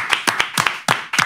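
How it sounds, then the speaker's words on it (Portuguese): A few people clapping in a studio setting, five or six sharp, close claps in a quick irregular rhythm. "palmas pra essa resenha absurda com o Antônio Tavares"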